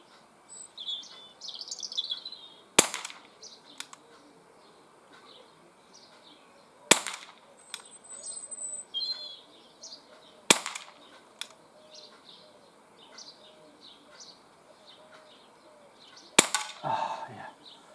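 Umarex Walther PPQ CO2 pistol firing at a target 10 yards away outdoors: four sharp, separate cracks spaced a few seconds apart, with birds chirping faintly throughout the background.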